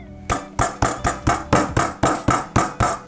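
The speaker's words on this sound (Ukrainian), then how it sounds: "Скористаюсь молоточком, якому трішки більше років, ніж мені, і гарненько відіб'ю це м'ясо" An old meat mallet pounds chicken fillet on a board for schnitzel, eleven loud, steady thuds in an even rhythm, close up with no talking.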